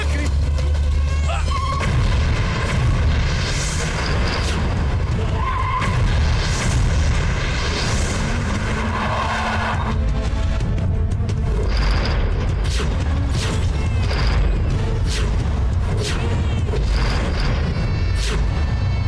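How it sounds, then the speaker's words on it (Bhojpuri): Loud booming blasts from a bomb explosion in a Bhojpuri action film, arriving in heavy low rumbling bursts mixed with music and shouted dialogue throughout. "उड़ा दे बम से, उड़ा।"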